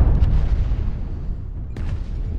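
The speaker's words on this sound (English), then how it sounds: "I'm getting shot in the back a little bit." Low, rumbling booms and impacts from gunfire striking the player's mech in the video game MechWarrior Online, with a heavy dull thud at the start and another sharper hit later.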